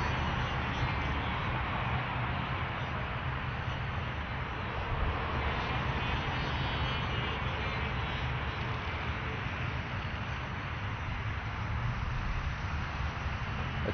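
Electric brushless motor of a Dynam Sonic 185 RC glider running at about quarter throttle: a steady, even drone with a mild wind rush that holds unchanged throughout, with no talking.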